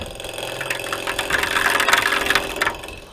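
A wood lathe turns a bowl while a bowl gouge cuts it, giving a close, continuous rough scraping and chattering hiss over the spinning hum. It grows louder through the middle.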